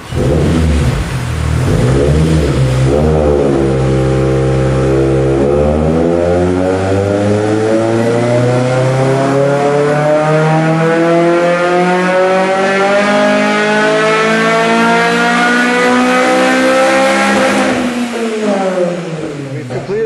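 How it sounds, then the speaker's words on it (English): A car engine fitted with an N1 exhaust revs steadily upward on a dyno in one long, loud, sustained pull, pitch climbing for about fifteen seconds before dropping off abruptly. "we'll take this to go get the dyno run"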